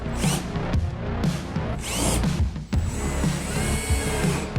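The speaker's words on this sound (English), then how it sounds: "going to countersink all of the holes so that the screws don't stick up" A drill countersinks screw holes in a wooden DIY summer sled, giving several short, loud bursts of whirring and grinding separated by brief pauses and clicks.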